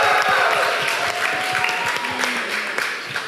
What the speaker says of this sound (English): Big applause to Alex.